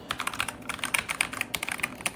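Someone types on a home-built mechanical keyboard that was damaged by a spilled drink, producing a fast, uneven rattle of close, clacky keystrokes in quick bursts with no talking.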